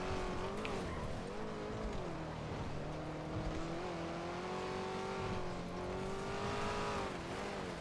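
Video-game car doing a 360 spin, engine droning and rising and falling in pitch with tire squeal layered over it, steady and fairly close throughout, without speech.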